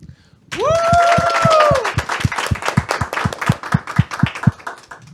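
A studio audience breaks into applause at the start of a Catholic talk program, joined by a rising musical flourish and a run of evenly spaced rhythmic claps or beats that carry on after the melody fades.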